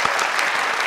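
A studio audience claps steadily and loudly at the opening of a Persian-language music competition show; a dense, even patter of many hands with no voices.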